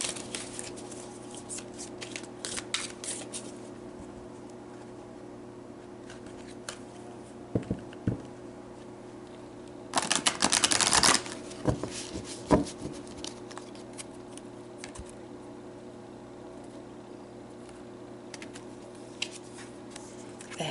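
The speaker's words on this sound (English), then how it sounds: "So let's pull some more cards." Tarot cards shuffled and drawn give sparse papery taps, then a dense riffling burst midway and a few isolated flicks afterward, close and quiet with no talking.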